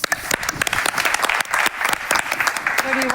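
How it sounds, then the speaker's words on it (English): An audience at a panel discussion on connected property bursts into dense, lively clapping that lasts throughout, with people talking over it. "Big applause."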